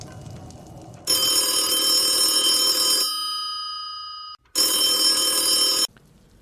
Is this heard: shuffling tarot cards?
no